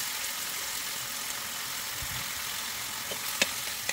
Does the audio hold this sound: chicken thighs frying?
yes